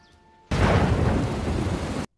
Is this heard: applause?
no